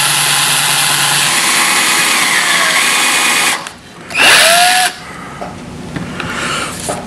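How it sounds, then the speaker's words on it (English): A power drill with a flat drill bit boring a recess, a loud steady whine that drops away briefly, then a sharp burst of high-speed spinning and a quieter tail of tool noise. "what you can do here is use one of these flat drills, and I can pop this off now, it's set. And just recess it a little bit like this."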